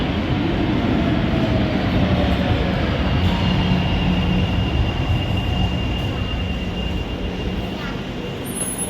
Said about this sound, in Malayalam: ഇത് അപ്പുറത്തെ പ്ലാറ്റ്ഫോമിൽ വന്ന ഒരു സ്ട്രാസൻ ബാനാണ്.